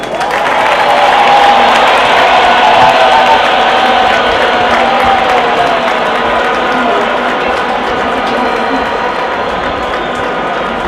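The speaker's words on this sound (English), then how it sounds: "A big round of applause for the address by the" Large crowd after an inauguration address in Zimbabwe, a continuous, dense wash of applause and crowd noise, loud and sustained without a break, with a faint ringing tone running through it.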